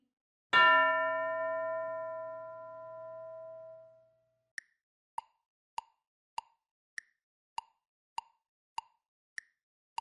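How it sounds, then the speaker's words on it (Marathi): A school bell struck once rings out with a long, slowly fading tone, followed by a steady run of short, evenly spaced ticking clicks; no one speaks. "घंटा वाजली की टीचर 2 मुलींना उभं करतील."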